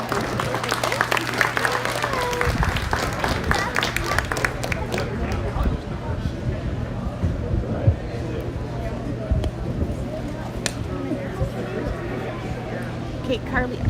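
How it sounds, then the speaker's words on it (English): Crowd applause for kids at a hog show, a loud burst of clapping at first that tapers into scattered claps amid chatter and indoor arena bustle. "Let's go ahead and give these kids a round of applause."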